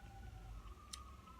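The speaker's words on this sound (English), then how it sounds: "Obligatory pause for the siren." An emergency vehicle siren passes outside, a faint steady wail held under low background rumble, with a brief brighter burst near the middle.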